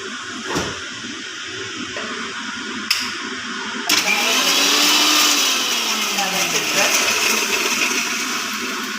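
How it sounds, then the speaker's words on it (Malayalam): An electric mixer grinds green chili, garlic and coconut for a Kerala tapioca dish, starting with a few clicks and then running as a loud, steady whir for several seconds close by. "പച്ചമുളകും വെളുത്തുള്ളി ചതച്ച് അതിലേക്ക് കുറച്ച് തേങ്ങ, അതും കൂടെ"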